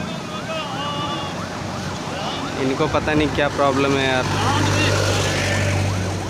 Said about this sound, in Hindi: देखिए एम्बुलेंस आ रही है